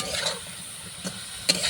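Potatoes fry in oil with salt and turmeric while being stirred, giving a soft, steady sizzle broken by a few brief scraping strokes of the spoon, close and fairly quiet.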